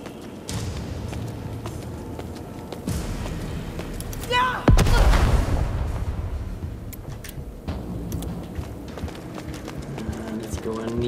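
A grenade attack in the video game Necromunda: Underhive Wars, a short rising whistle followed by a loud, heavy boom that rumbles and decays over a few seconds, amid clattering game effects and someone talking.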